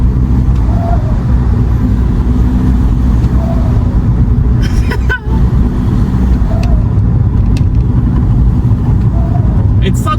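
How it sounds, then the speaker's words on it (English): Engine and road noise from a 2006 Volkswagen Golf Mk5 with a 1.9 TDI diesel while driving with a window partly down, a loud steady low drone with brief rising whooshes, and someone talking over it. "you've got my favorite little feature about the car. It makes this noise."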